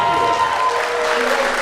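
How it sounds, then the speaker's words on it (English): Audience applause fills a room at a horror film festival, a dense, steady wash of clapping held at an even level throughout, with some faint voices mixed in. "Can we give him another round of applause?"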